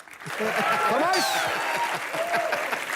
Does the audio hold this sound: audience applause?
yes